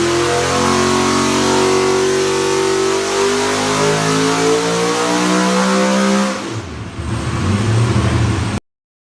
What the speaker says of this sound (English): this is a dynamometer where we test out the engines